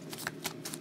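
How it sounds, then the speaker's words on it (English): Trading cards being shuffled by hand during a sports card box break, a quick run of crisp riffling bursts, close and fairly quiet, with no talking. "Another good shuffle."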